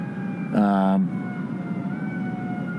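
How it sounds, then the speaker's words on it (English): A fire engine on a New York city street sounds a short, loud horn-like siren blast lasting about half a second over steady traffic hum. "Oh, they got a fire engine there."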